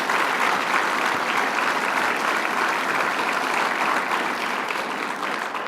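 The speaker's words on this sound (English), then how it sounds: "Let's give him a round of applause for his great work." Dense, loud audience applause rolls steadily at a political event with the governor discussing his agenda, sustained without a break and with no talking over it.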